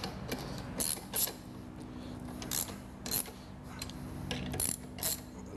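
A car wash tire shiner's adjustment is tightened with a ratchet, giving a series of sharp metallic clicks and ratcheting bursts at irregular intervals over a low steady mechanical hum.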